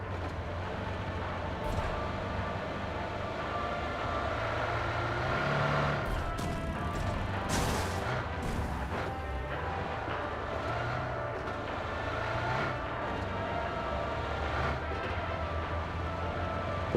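Vehicle engine droning steadily while driving in PUBG, a continuous mid-level motor hum with a few brief bumps and knocks, heard alone.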